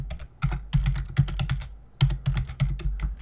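Fingers typing on a computer keyboard, close crisp key clicks in quick bursts separated by a short pause, with no talking.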